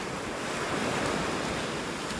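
Surf breaks and washes onto a beach in North Naples, Florida, a steady broadband roar of waves mixed with wind buffeting the microphone, with no voices.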